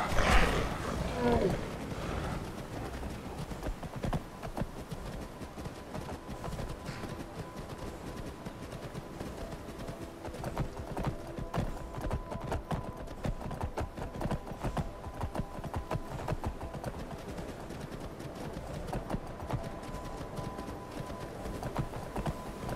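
Galloping horse hooves in Skyrim, a steady clip-clop running under game ambience and animal roars, with a voice talking over it.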